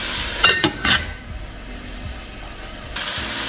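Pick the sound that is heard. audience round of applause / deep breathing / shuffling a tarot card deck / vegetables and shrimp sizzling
vegetables and shrimp sizzling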